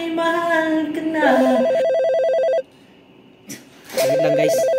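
A telephone rings in loud, steady electronic pulses that stop briefly and then resume, preceded by a voice at the start.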